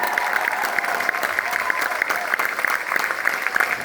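An audience claps steadily for a children's Armenian dance group, dense, sustained applause with crowd murmur running through the whole stretch at fairly close range.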